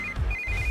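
A telephone rings in a film scene with a bright electronic ringtone in short repeated tones over a low rumbling background.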